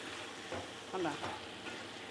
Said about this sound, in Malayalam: നമ്മളുടെ വറുത്ത ചിക്കൻ റോസ്റ്റ് റെഡി ആയിട്ടുണ്ട്.